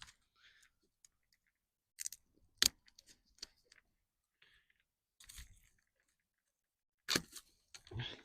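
Secateurs snip through crossing and dead stems while pruning on a winter allotment, giving a handful of crisp, close cutting clicks and crunches at irregular intervals with quiet gaps between.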